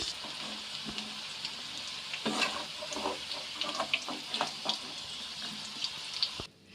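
Salted, turmeric-coated jackfruit pieces frying in hot oil in a Bengali home kitchen, a steady soft sizzle with scattered pops and crackles, close and moderately loud, ending abruptly.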